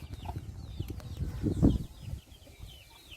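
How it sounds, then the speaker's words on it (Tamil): Village chickens and chicks cluck softly and briefly near a rural house, with low rustling around them. "கோழி குஞ்சுகள்லாம் கூப்பிட்றதுக்கு வந்து ஒரு ஸ்டைல் இருக்குது"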